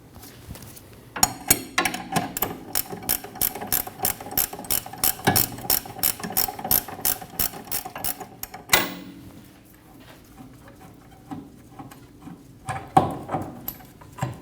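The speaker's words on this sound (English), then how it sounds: "Remove the rear shock bolt." A ratchet wrench cranks off the rear shock bolt on a Volkswagen Passat, a rapid run of close, sharp clicking strokes for several seconds, then a pause and a few more bursts of ratcheting.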